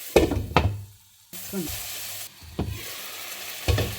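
Fish frying in a pan with curry leaves, onion, tomato and salt, sizzling steadily with several loud stirring knocks and scrapes of a spoon against the pan, close up.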